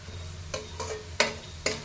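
Garlic frying in oil in a pan for garlic chitranna, a low steady sizzle broken by four sharp scraping strokes of a spoon stirring, close and fairly quiet.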